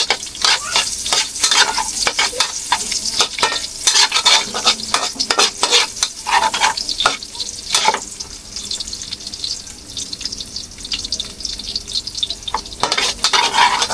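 Garlic sizzles and fries in a hot pan while a utensil stirs it, giving a constant crackling hiss with frequent scraping strokes, close and loud.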